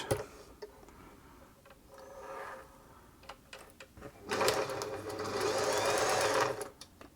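Singer 631G sewing machine running in short bursts, a brief whir early, then a longer, louder mechanical hum and rapid stitching clatter near the end, with quiet clicks between.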